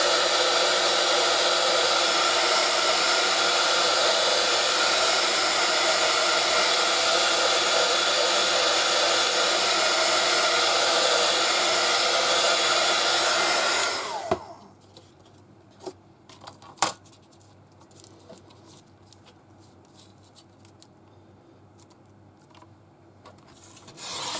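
A hair dryer blows steadily on a stamped feather background for about fourteen seconds, a loud continuous whoosh that then cuts off, leaving quiet room tone with a few soft clicks and handling knocks.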